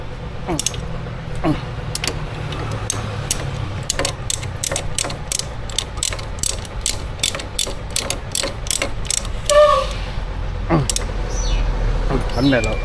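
A ratchet clicks in a steady stream of sharp, close strokes while bolts are tightened during assembly of a car's front wheel bearing, with a low engine-like rumble beneath and brief talk near the end.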